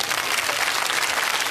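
An audience at a Bhagavat katha gathering in Noida claps together in a short burst of steady, dense applause that fills the whole moment.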